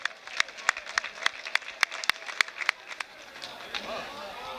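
Princeton fans at an outdoor track meet give a slow clap, sharp claps landing at a steady, quickening pulse across a spacious stadium. The claps fade out near the end under a commentator's voice.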